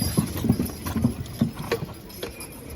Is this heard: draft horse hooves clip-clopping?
yes